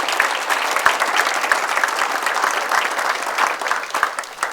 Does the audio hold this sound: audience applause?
yes